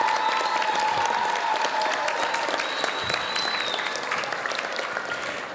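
A school audience at a Battle of the Brains event applauds Spark, the division's educational foundation, with dense, sustained clapping from a large crowd that holds steady for several seconds and fades slightly at the end.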